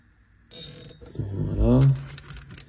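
A plastic cable tie ratcheting tight around an intercom wire inside an Autobianchi A112 Abarth historic rally car, a close, loud zipping run of rapid clicks after a sharp start, alone without talk.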